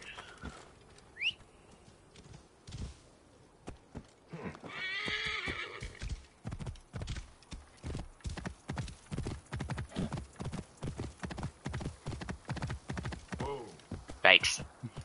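A horse in the video game Assassin's Creed Origins whinnies, then its hooves clip-clop in a steady, close rhythm for the rest of the stretch, with a bird chirp and faint game ambience around it.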